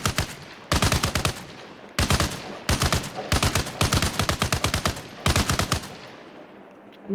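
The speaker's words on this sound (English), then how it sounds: "It's got a machine gun. Not really the best, but it's a 50 cal" A jeep-mounted .50 cal machine gun in Arma fires six loud, close bursts of rapid shots, each separated by a short pause.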